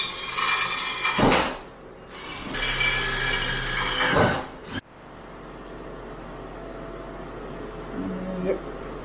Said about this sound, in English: I'm going to drill these out